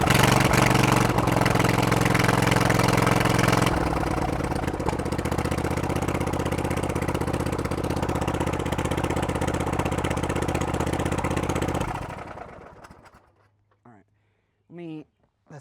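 A Husqvarna riding lawnmower engine runs with the choke on, a loud steady drone with a shift in pitch partway through, then it cuts off abruptly and a voice speaks in the quiet afterward.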